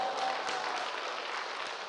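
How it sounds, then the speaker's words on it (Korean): Audience applause in a church service or sermon gathering, a steady wash of many hands clapping at moderate level for about two seconds with no talk over it. "예, 100명. 박수 치고."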